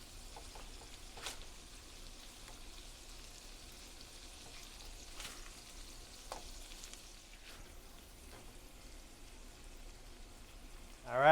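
Burger patties frying in a pan give a faint, steady crackling sizzle with scattered small pops, and a louder scrape comes at the very end.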